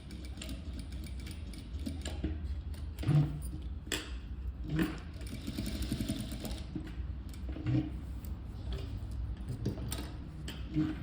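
A sewing machine stitches a blouse side seam in short mechanical runs, with rhythmic ticking and a few sharper clacks between bursts.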